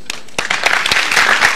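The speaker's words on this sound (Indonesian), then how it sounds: "tepuk tangan dulu" Short burst of clapping from a studio audience on a health talk show, a quick scatter of claps that thickens over under two seconds.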